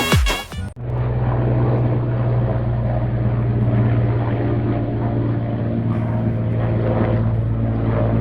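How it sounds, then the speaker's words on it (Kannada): A helicopter flying overhead gives a steady, droning engine hum that fills the air continuously, low and throbbing, after a brief burst of noise at the start. "ಹೆಲಿಕಾಪ್ಟರ್ದ ಸೌಂಡ್ ಕೇಂಡು"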